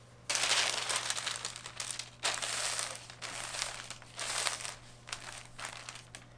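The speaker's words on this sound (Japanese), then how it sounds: "四隅の紙を外しておくとですね焼き縮みが防げますので" Parchment paper peeled from a freshly baked sponge cake gives soft crinkling and crackling in several bursts with short pauses, quiet and close, over a low steady hum.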